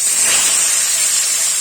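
Pieces of chara pona fish sizzle in hot oil in a kadai, a steady loud hiss that fills the whole moment without pause, with no talk over it.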